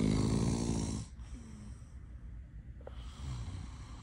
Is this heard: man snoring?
yes